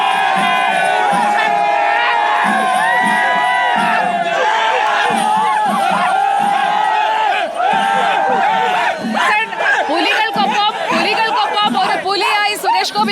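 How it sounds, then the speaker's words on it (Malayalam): Large festival crowd at Thrissur Pulikali shouting and cheering, a dense roar of many voices with whoops and bursts of chatter, mostly steady and near, with a reporter speaking over it. "ഇവിടെ ആളുകളുടെ ഒരു ആർപ്പുവിളിയുമുണ്ട്"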